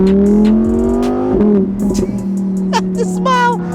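Naturally aspirated V10 engine of a 2020 Lamborghini Huracan EVO RWD Spyder drones loudly at a steady pitch, then dips and climbs again in short rises near the end.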